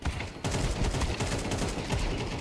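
Dense, continuous gunfire from Counter-Strike 2, rapid overlapping shots after a brief lull at the start, loud and steady with no talking.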